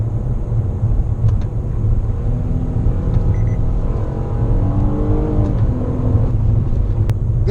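Steady low engine and road rumble from inside a 2017 Nissan Altima 3.5SL midsize sedan while driving, with a continuous drone and some rising tonal whine as it accelerates.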